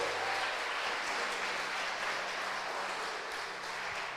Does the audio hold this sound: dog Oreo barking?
no